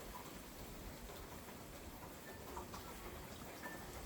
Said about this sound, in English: It's raining. I don't know if you can hear that.